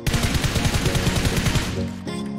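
Rapid automatic gunfire in PUBG on the Livik map, loud and continuous bursts of shots, close and dense, ending in a short tail near the finish.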